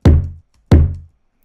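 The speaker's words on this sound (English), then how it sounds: "So if I take this kick drum" Two punchy kick drum hits built from body and mouth noises, each a deep thump with a short decaying tail, evenly spaced and heard alone.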